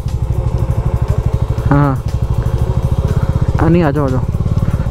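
A Bajaj Dominar 400 motorcycle climbs a mountain road toward Hatu Peak near Narkanda, its engine thrumming steadily up close while riders talk over it.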